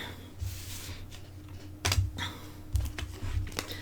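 Close, quiet rustling and soft slaps of large, stiff oracle cards being shuffled by hand, in a few uneven bursts with brief pauses between.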